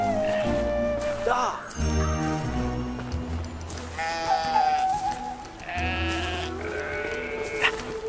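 Sheep bleating in the game Brothers: A Tale of Two Sons Remake, several wavering bleats rising over layered background music, fairly close and clear.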